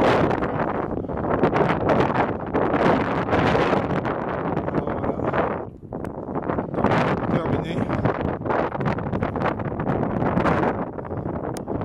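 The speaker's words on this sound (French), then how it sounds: "Là, il y a beaucoup de vent" Strong wind on Parliament Hill in Ottawa buffets the microphone in a steady, loud roar, with a brief lull midway and speech mixed in.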